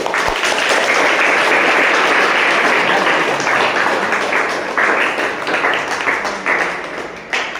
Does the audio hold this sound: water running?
no